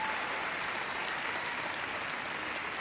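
Sustained applause and cheering from a crowd around the ring at the Crufts 2016 dog show after a freestyle heelwork to music competition, steady and fairly loud throughout with no voices standing out.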